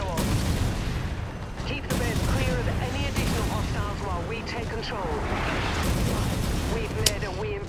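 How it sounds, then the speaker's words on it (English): Artillery fire in the video game Mechwarrior 5: Mercenaries pounds continuously, a dense barrage of booms and blasts layered under someone talking throughout. "What, there's more artillery?"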